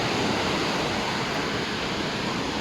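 Rough sea after Typhoon Christine off the coast at Salay, Misamis Oriental, a steady loud roar of churning surf and breaking waves filling the whole stretch without any voice.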